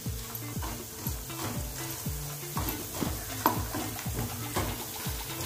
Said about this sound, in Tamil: நல்லா சுருண்டு வர மட்டும் நல்லா வணக்கிக்கலாங்க